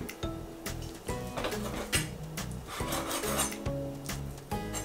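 A knife cuts bacon into cubes on an ironwood chopping board, making repeated rasping, scraping strokes close to the mic over a steady bed of background music.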